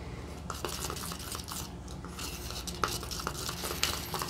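Paint being stirred and mixed in a container for gelli printing, a steady scraping swirl with occasional clinks of the tool against the side, close and continuous with no talking.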